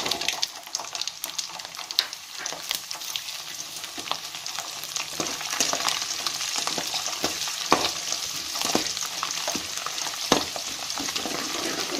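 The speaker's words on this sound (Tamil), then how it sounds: "அதோட இவ்வளோ பூண்டு போடுறேன்." Garlic, cut dried red chillies, cumin and fennel fry in sesame oil for a garlic pepper gravy, a steady close crackling sizzle with frequent sharp pops and stirring scrapes, and no talk.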